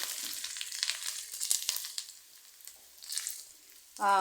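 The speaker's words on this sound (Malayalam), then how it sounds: "ഞാനിങ്ങനെയാണ് കടുക് വറുക്കുന്നത്" Mustard seeds and asafoetida, with dried red chilli and onion, frying in oil as a tempering for spinach curry: a crackling, popping sizzle that is busy at first, then eases, and a brief voice comes in right at the end.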